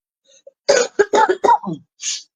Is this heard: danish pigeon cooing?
no